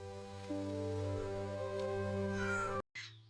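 A frightened mother cat cries in a long, tonal, drawn-out meow that holds steady for nearly three seconds, close and fairly quiet, then breaks off briefly before a short final call.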